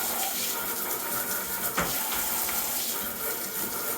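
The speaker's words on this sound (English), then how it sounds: "Yep, just hose them down." Hose water sprayed over Onewheel parts being cleaned after Burning Man, a steady broadband rush of spray running the whole time with one brief splashy burst partway through, close and fairly loud, no talking.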